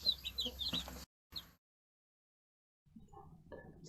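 Chickens cluck and squawk in a busy cluster for about a second, then a short burst follows, a pause of silence, and softer clucking returns near the end.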